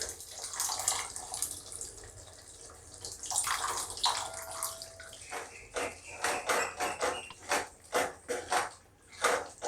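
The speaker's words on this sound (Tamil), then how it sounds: "ஒரு எலுமிச்சம்பழம் அளவு புளி கரைச்சி வச்சுருக்கிறேன், அதை ஊற்றிக்கிறேன்" Tamarind water pours and splashes into a pot, a steady stream followed by gurgling sloshes and splashes as it settles.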